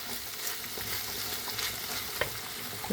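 Close, steady sizzling of borscht seasoning frying in a pan, with a few soft crackles and pops scattered through the hiss.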